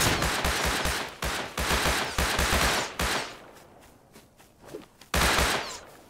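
Repeated bursts of automatic gunfire in the survival video game Rust, loud and close, firing in several rapid strings separated by short pauses, with a quieter stretch of scattered sounds before a final burst.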